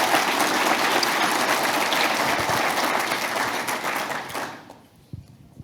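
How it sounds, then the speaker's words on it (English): Audience round of applause at a farm management talk at an agricultural expo, dense sustained clapping that tapers off near the end into quiet with a few stray claps. "So everybody give Greg a big round of applause"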